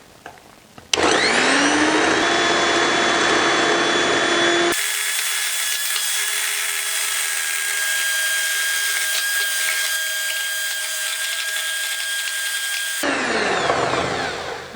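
Electric mixer whipping lemon-pie meringue as hot sugar syrup is poured in: a loud, steady motor whine starts abruptly, shifts pitch partway through, runs continuously close by, then cuts off.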